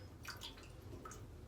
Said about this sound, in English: What I'm going to do next is water them